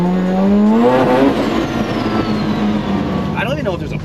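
A modified car engine revs and climbs in pitch, then settles into a rough idle, loud and close, with people talking over it.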